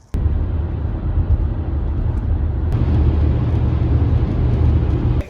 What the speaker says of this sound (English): Getting on the bus, getting ready to go to the airport.